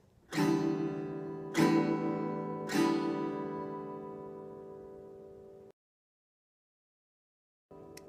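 Three ringing acoustic guitar strums at an even pace, each chord sustaining until the sound cuts to silence, then another strum begins.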